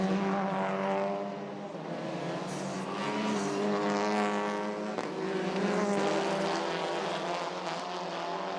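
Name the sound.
TCR touring race cars racing at Zolder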